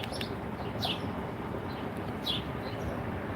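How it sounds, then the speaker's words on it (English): Sharp, descending bird chirps repeat a few times over a steady rushing background, calls fairly close and insistent. "Birds are yelling at me."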